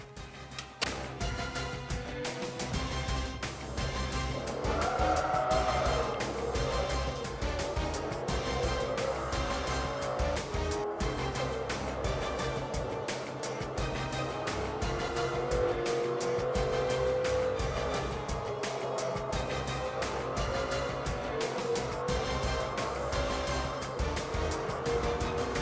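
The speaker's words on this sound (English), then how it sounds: "So now's my chance to try and beat the time me and Alfred set on the Nürburgring in the R8" An Audi R8 races around the Nürburgring in the video game Forza 3. A steady engine drone with rising and falling revs and occasional tire noise plays for the whole stretch, moderately loud, with no one talking.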